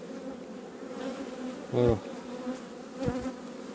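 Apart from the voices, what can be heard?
honeybees buzzing in a hive with a 2019 queen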